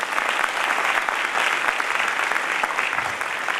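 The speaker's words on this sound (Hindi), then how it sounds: "थोड़ा जोरदार ताली होनी चाहिए।" An audience at a public gathering claps in a brief, dense burst that stays at an even level for a few seconds, with no voices standing out.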